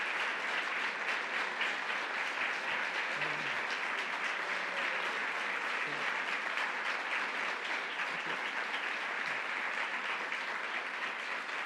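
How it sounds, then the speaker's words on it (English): A crowd at an announcement of Troy's $10 million Downtown Revitalization Award applauds steadily, dense clapping that holds at an even level for the whole stretch. "give yourselves a round of applause"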